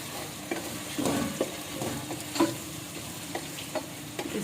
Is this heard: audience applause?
no